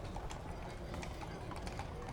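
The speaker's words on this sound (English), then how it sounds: "the best time that horses have ever had running down Massachusetts Street" Horses' hooves clip-clop steadily along Massachusetts Street in a Christmas parade, a continuous busy patter of many hoofbeats under crowd noise, with people talking over it.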